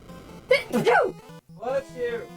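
A single close human sneeze, sharp and loud, followed by a short voice.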